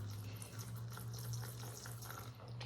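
Warm water runs from a tap into a container while milk paint is mixed, a steady gushing splash under a low pump-like hum, fairly quiet and continuous throughout, with no voices.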